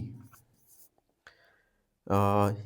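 Brief scratchy strokes of handwriting during a math lesson, quiet and intermittent beneath a man's soft speech in the pauses.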